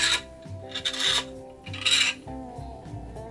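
Sanding a 3D printed cosplay prop part, a 1:1 scale Cerberus piece, with three close rasping strokes in a steady back-and-forth rhythm, heard alone.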